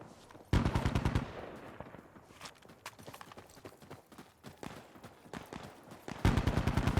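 Loud bursts of automatic fire from an Alpha AK rifle in Insurgency: Sandstorm, a rapid volley at the start and another at the end, with scattered single shots and distant battle noise in between.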